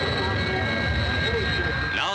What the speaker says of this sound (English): Now the Victor, Britain's crescent-wing bomber. Powered by four Sapphire jet engines